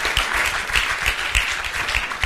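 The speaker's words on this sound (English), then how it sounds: "Clap, clap. This is a good place to clap." A church congregation claps during a sermon, a loud, close burst of many hands with heavy thumping accents recurring in an uneven rhythm beneath the bright clatter.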